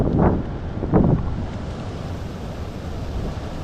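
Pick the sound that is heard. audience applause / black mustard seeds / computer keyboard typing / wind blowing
wind blowing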